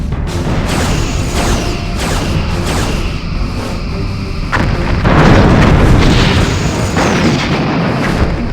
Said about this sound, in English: Lining up forward torpedo tubes.